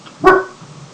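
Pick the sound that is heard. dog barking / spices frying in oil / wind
dog barking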